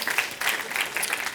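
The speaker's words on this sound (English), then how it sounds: "Yes, please applaud yourselves." Conference audience clapping after a talk on collaboration and co-working, a short burst of dense applause from a room full of people, moderately loud and fairly close, without speech.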